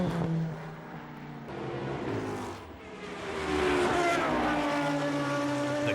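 Le Mans prototype race cars, including a turbo-engined LMP 675 car, scream past at speed, engine notes rising and falling as several cars sweep by near and loud, with no talk.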